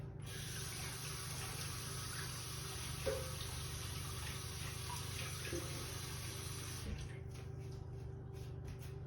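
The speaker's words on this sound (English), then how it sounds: "I gotta wash my hands again" Kitchen tap water running steadily into a sink during handwashing while cooking mini meatloaves, a faint continuous splash with small touches of movement, then cut off near the end.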